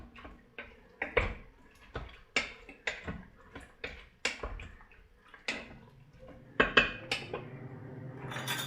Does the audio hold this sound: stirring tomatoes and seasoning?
yes